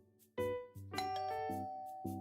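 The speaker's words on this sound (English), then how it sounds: "It doesn't take long before the doorbell rings." A melodic electronic doorbell chime from the video game Love Curse plays a short sequence of ringing tones, clear and close, with no talking.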